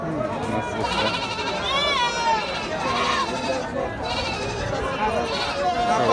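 At a crowded goat market in Jhenaidah, goats bleat repeatedly, with a clear, drawn-out, quavering cry near the middle, over a steady murmur of people talking.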